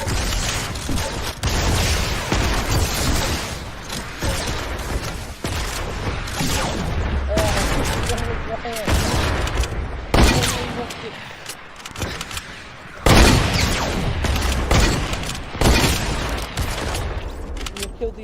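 Gunfire and heavy booms roll on continuously in a First World War trench battle mode of Fortnite, with dense volleys, thudding blasts and clattering mechanisms filling the scene and a voice speaking at times over the din.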